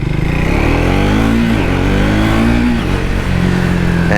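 A 2024 Triumph Speed 400 motorcycle engine pulls steadily while riding, its tone rising and falling through the gears, loud and close with a constant drone and no talk.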